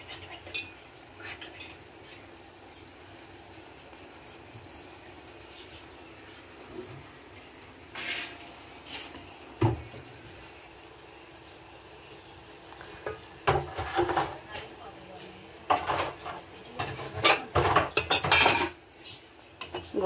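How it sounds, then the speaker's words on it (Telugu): Boiled eggs go into a pan of softened onions for egg curry, followed by scattered metallic spoon clinks and scraping stirs against the pan under a faint sizzle, growing busier and louder toward the end. "గుడ్డు వేస్తున్నానండి"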